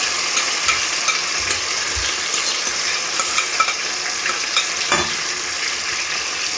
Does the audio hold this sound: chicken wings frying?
yes